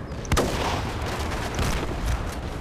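Mortar strike explosions in a first-person shooter: a loud, sharp blast lands early, followed by a couple of duller booms over a constant rumble of battlefield noise, with no one talking.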